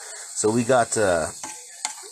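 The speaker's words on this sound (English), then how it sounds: "listen to that sizzle" Caramelized onions, finely chopped, sizzle in a pan while barbecue sauce is being made, a broad hiss running beneath a voice that speaks over it for most of the moment.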